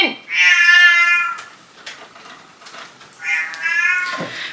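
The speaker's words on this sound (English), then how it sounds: "We are at the point where this meowing is incessant." A pet cat named Finn meows loudly and insistently indoors, two long drawn-out cries separated by a pause with quieter rustling between, close to the listener and with no one speaking.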